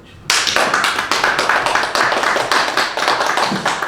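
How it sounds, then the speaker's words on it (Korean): An audience at a business lecture on change and innovation bursts into applause, loud, dense clapping that starts abruptly and runs steadily for several seconds with no talking. "박수 한번 쳐주세요."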